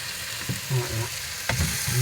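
Beef for Spanish rice frying and being stirred in a pan, a steady close sizzle with a few scraping strokes of the spoon.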